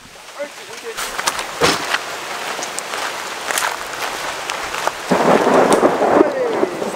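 Rain with thunder at a fishing pond in Bali: a steady patter of rain broken by cracks and rolling thunder, with heavier rainfall building toward the end.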